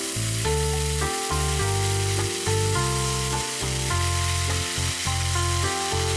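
Beef stir-frying in a pan with sukiyaki sauce gives a steady sizzle and frying hiss throughout, close and even, with music playing over it.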